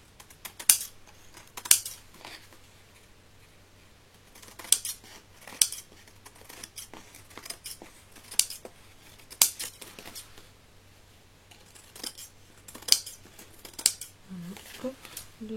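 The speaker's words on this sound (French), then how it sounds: "Je vais recouper parce que comme ça a été embossé," Scissors cutting through embossed card, with repeated crisp snipping bursts in uneven clusters, close and clear against a quiet background.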